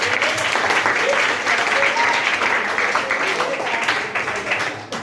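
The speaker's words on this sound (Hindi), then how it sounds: "उनके लिए जोरदार तालियां होनी चाहिए।" Loud, sustained applause from an audience at a yoga camp event, dense steady clapping filling the whole stretch and tapering slightly near the end.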